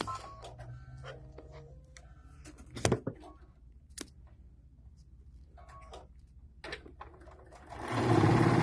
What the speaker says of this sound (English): So we're just sewing these rows together to finish our 9 patches.